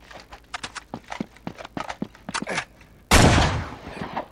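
Rapid clicks and taps, then a loud burst of noise like an explosive gunshot in the video game Uncharted 3 that rings out and slowly fades.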